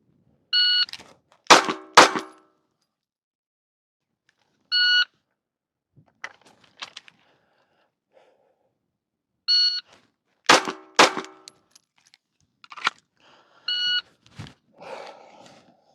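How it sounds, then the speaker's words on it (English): At a pistol shooting drill, a shot timer beeps and two sharp pistol shots follow close together, with the sequence repeated several times through the clip and quiet gaps between strings. "On the beep, we'll put 2 rounds on target in 4 seconds."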